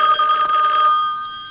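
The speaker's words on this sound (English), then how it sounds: "That's the news phone." A telephone bell rings loudly and close by in one sustained burst that fades slightly at the end, with no talking.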